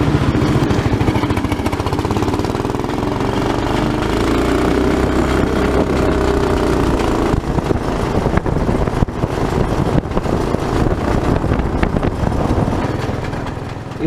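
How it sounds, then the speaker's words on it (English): A 420cc go-kart engine fitted with a muffler runs steadily at a constant drone for the whole stretch, loud and continuous with no talk over it. "If you listen closely, you can hear the go-kart making a noise."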